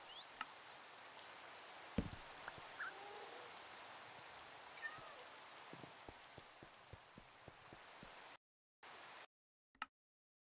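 Steady rain falls in the Minecraft video game, a soft continuous patter with scattered drop taps and a few sharp clicks, fading out near the end.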